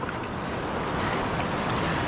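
Ocean surf breaking and washing at a La Jolla beach boat launch with a pontoon boat, a steady broadband roar of waves with some wind noise, continuous and close throughout, no talking.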